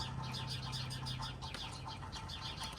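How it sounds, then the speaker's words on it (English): Many birds chirp and call at once, a busy chorus of quick repeated tweets continuing steadily at moderate distance. "You can hear all the birds."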